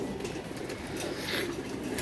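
Domestic pigeons kept in paired breeding lofts coo softly and continuously, a low murmuring burble close by with faint rustling, no voices present.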